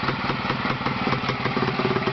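A Jawa 353 motorcycle engine runs steadily on test after a major overhaul, a close, even mid-pitched putter with a regular rhythmic beat and no talk.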